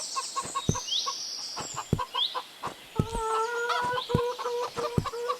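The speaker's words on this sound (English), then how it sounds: "Chickens." Chickens clucking in a video game, with several close, repeated clucks and short calls over a quiet background.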